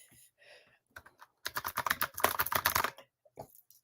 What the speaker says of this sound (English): plugging in my fancy keyboard, which I love. I got it for the holidays. And it's going to make clacky, clacky noises